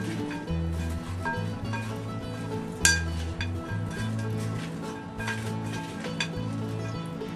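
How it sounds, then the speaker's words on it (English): Casserole mixture with cheese and bacon being stirred in a pot, a steady scraping and clinking of a spoon against cookware with a sharper clank partway through, close and alone without talk. "And give that a stir around."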